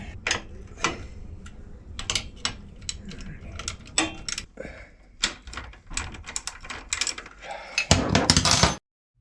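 Bolts are tightened on the skid plate of a 1960 Harley-Davidson Panhead motorcycle, heard as a series of sharp metallic ratchet clicks and taps, irregular and close, with a louder burst of clicking at the end.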